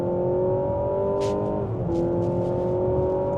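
Mazda CX-90 PHEV accelerating hard in a drag race, a loud steady engine drone with a rising tone, a brief dip as it shifts, then pulling on.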